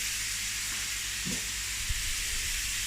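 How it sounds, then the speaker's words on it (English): A salt-and-pepper seasoned beef brisket searing in a pressure cooker pot, a steady loud sizzle and hiss running throughout, with a faint stir or clunk partway through and no talking. "I'm just giving it a searing look"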